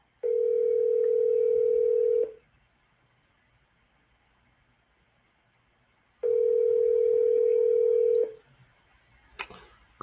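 A telephone dial tone sounds while a call is placed: a steady tone holds for about two seconds, stops, then returns for another two seconds after a pause, with faint background hum between and a brief click near the end.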